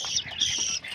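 A green parrot calls in a few short, harsh squawks and chirps close by, with a faint murmur of background noise underneath.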